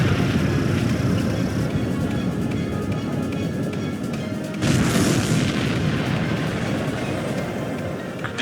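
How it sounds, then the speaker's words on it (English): Ace Combat 7 air combat: a continuous loud roar with a sharp burst midway, as a missile launches and explodes, alone without voices. "missile launched"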